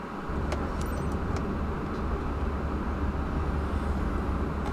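An Aston Martin car in Microsoft Flight Simulator 2024 idles with a steady low engine drone, a few faint light clinks over the top, and no voices.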